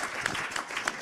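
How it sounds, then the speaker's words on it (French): Conference audience applauding a speaker: a soft, distant patter of many hands clapping, fairly faint and steady over the whole moment, with no voices. "On peut l'applaudir."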